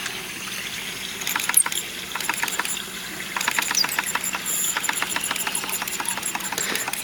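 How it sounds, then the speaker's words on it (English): Mamod SA1 steam car, under restoration, blowing off pressure through its safety valve: a steady close hiss with a rapid ticking, sputtering patter running throughout, briefly easing near the middle before resuming. "we're blowing pressure out of the safety valve now, so we're pretty much up there."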